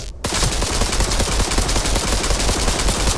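Rapid automatic gunfire from the Cyberpunk 2077 video game, a loud continuous stream of shots with dense overlapping bursts, no voices, sustained for the whole stretch after a brief quiet start.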